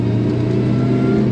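A supercharged 3RZ engine in a 1983 Toyota Sunrader four-wheel drive runs close by, a steady low rumble with droning tones that holds even for about a second and a half, no voices.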